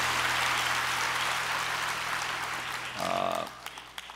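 A church congregation applauds during a Christmas-season sermon. Broad, even clapping fills about three seconds, then a voice speaks briefly as the applause fades.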